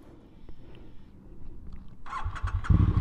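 A 2021 Triumph Street Twin motorcycle engine is cranked and fires up near the end, rising from quiet ambient rumble into a loud, close bark of the parallel-twin engine catching.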